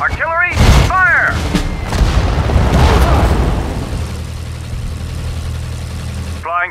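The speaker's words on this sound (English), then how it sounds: "Artillery, fire!" Artillery firing in the Allied Campaign with US Army forces: a couple of heavy, booming blasts followed by a rumbling tail that fades to a low drone. Brief voice lines from the game are heard at the start and end.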